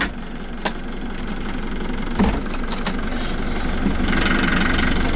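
A 2010 Toyota Coaster bus engine idles steadily nearby, a continuous low, rough mechanical hum with faint knocking and a few brief clatters, no one talking.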